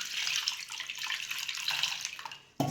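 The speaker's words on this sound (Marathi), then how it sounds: "सगळं देवाचं धुवून घ्यायचं आपण" Water poured and splashing while washing deity idols clean of panchamrit after a morning puja, a steady close hiss of running water that cuts off near the end.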